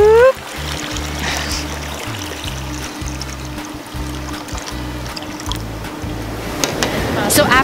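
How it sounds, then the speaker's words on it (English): Tap water from a faucet pours into a plastic bag as it is filled to about 500 millilitres, a steady splashing rush heard close up under a low hum, with a person talking over it. "We're gonna fill the bag with 500 milliliters of water. You can just get this water from your faucet."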